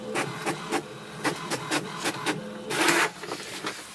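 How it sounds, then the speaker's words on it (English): An HP Tango wireless printer runs off an information page, its mechanism working in a rhythm of short whirring and clicking feed strokes, with one longer, louder burst near the end, close up and alone. "wait for the printer to print printer information"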